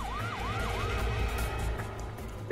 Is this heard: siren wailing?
yes